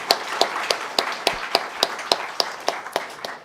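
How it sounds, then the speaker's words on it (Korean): Congregation applauding at a church founding thanksgiving service, heard as a short run of regular, sharp claps, roughly three per second, moderately distant and fairly quiet, with no voices over them. "우리 하나님 앞에 감사의 박수 한번 올려드리십시다."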